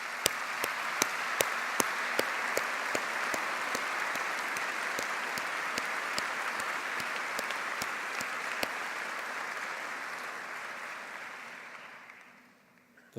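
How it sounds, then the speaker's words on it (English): Graduates at a Swinburne University graduation ceremony give a long round of applause for the staff, a dense sustained crowd clapping with a few sharp louder claps, gradually thinning and fading out at the end. "Graduates, will you please join me in a round of applause for all the Swinburne staff."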